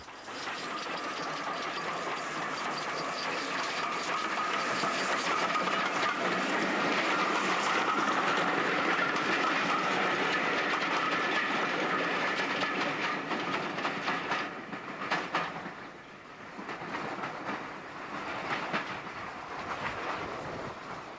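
GWR locomotive number 2857 hauls three LNER teak coaches past at close range, a loud, steady rush of wheels and steam with rhythmic clatter that eases and grows patchier toward the end.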